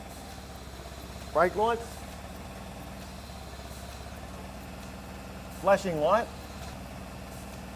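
A warehouse forklift engine idles steadily at a low, even rumble throughout, while a voice speaks briefly twice over it.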